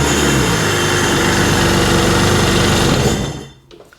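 An engine running loudly and steadily with a fast, buzzy rhythmic firing, close up, then cutting off abruptly near the end, leaving near silence.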